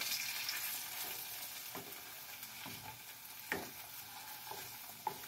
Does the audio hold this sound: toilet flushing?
no